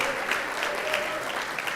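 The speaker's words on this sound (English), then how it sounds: "Once again, a round of applause for our Lifetime Legacy awardee, Kwasi Mfume," Round of applause from the audience at the NNPA National Legacy Awards Gala in Baltimore, a steady, dense clapping that holds evenly throughout with no voices over it.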